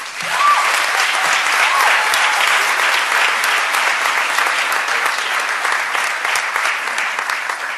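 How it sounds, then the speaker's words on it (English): Audience applause at a speaking event, a dense, steady clapping from a large crowd that stays loud and even throughout, filling the room without a break. "can we please give a big warm round of applause to Linda Williams"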